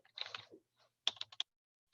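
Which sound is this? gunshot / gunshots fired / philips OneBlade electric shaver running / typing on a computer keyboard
typing on a computer keyboard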